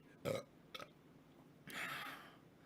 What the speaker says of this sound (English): Shaking yourself like a baby works. To burp.